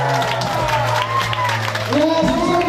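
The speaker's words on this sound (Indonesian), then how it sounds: "sama-sama kita berikan tepuk tangan yang meriah atas pelepasan balon" Applause and crowd noise at a school senior class graduation farewell with a balloon release, a steady dense wash of clapping mixed with a voice over loudspeakers and background music.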